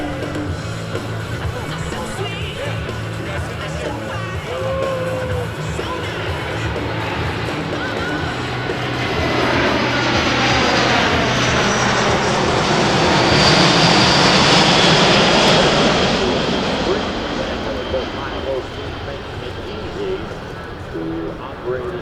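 Boeing C-17 Globemaster III four-engine military jet transport at an airshow demonstration, its engine roar swelling loud as it passes overhead and fading, with a spoken commentary voice over the public address throughout.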